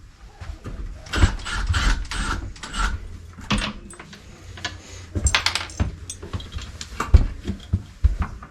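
A screw is worked out of a handrail bracket by hand, giving irregular close clicks, scrapes and small metallic ticks over several seconds with short pauses between turns.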